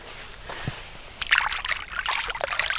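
Cold stream water tapped and splashed by hand outdoors: a quiet trickle at first, then from about a second in a burst of close, bright, irregular splashing and dribbling that continues to the end, with no talking.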